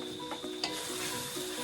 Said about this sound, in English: It's got its sizzle on.